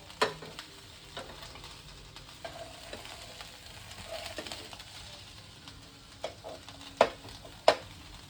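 Food is stirred in a frying pan after a pinch of salt goes in, giving a soft steady sizzle with a few sharp utensil clacks near the end, close and alone with no voices.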